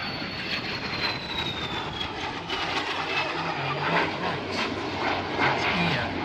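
A jet aircraft with Rolls-Royce engines at an airshow gives a loud, steady, broad roar with a high turbine whine that slowly falls in pitch, heard at close to moderate range.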